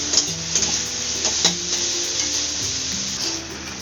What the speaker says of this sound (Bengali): একটু একটু করে এগুলো কষিয়ে নিচ্ছি, যাতে কাঁচা গন্ধটা চলে যায়